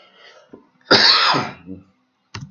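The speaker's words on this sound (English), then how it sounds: "I'm still dying from the cough." A single harsh, throaty cough bursts out close to the microphone, followed by a short quieter throat sound and a brief click at the end.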